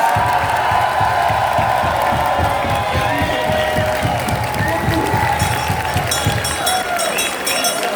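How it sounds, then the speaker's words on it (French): A carnival crowd in Malmedy claps steadily and continuously for the poster artist, a dense patter of many hands with scattered cheers and voices mixed in throughout. "Merci d'applaudir non pas l'affiche, mais Zoé Wolders"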